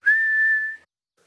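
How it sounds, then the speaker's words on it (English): A cartoon pig character whistles a single steady, clear mouth-whistled note lasting under a second, loud and close with no other sound around it. "You're making a funny sound. I'm whistling."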